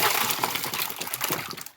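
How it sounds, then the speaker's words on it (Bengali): Fish are poured from one container into another pot in a kitchen, making a short, close splashing rush of water and wet slithering with no talking. "মাছগুলোকে আমি একটা অন্য পাত্রতে ঢেলে দিচ্ছি"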